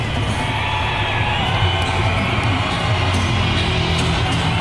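A big concert crowd roars and cheers as a band winds up its set at a pyrotechnics show finale, a thick, constant wash of voices and shouts filling the space at steady loudness from start to finish.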